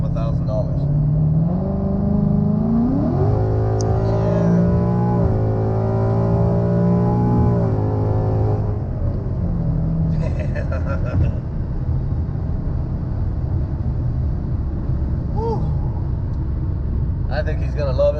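A 2019 Mustang GT 5.0 V8 with long-tube headers, axle-back exhaust and cold air intake revs up and falls back in a loud, close rise, followed by a steady rumbling idle with brief bursts, with talk over much of it.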